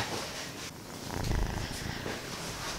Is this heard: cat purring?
yes